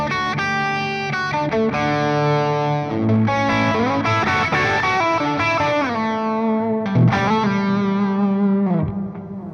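Electric guitar run through a micro amp for a bit of extra gain, a lightly overdriven tone playing chords and single-note bends with sustain and some reverb, loud and alone with no talking.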